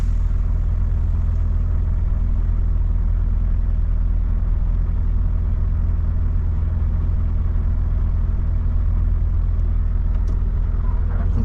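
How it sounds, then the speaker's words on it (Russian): A KamAZ truck engine revving while standing still, probably on a ferry beside a Volvo FH 540: a steady, loud, low diesel rumble that holds on evenly throughout, with no voices. "КамАЗ газует, стоит"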